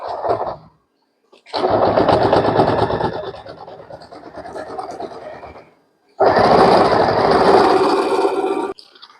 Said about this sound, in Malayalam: ഒന്ന് ജസ്റ്റ് ഒന്ന് സ്റ്റിച്ച് ചെയ്ത് കാണിച്ചു തരാം.